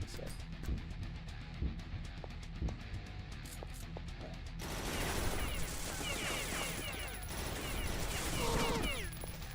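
Rapid automatic gunfire in the shooter game Beyond Citadel, a dense sustained burst of recoiling shots over a noisy battlefield background, with brief talk mixed in.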